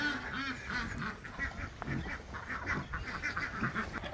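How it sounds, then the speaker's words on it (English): A busy chorus of ducks quacking and a goose honking repeatedly, close by and continuous, overlapping one another. "All the ducks and the goose making noise."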